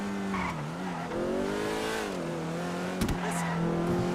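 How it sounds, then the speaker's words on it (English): A yellow Ferrari revs in GTA Online, a steady, droning engine note that rises and dips in pitch under racing-game ambience, with a brief tire squeal near the end. "That's a good engine sound."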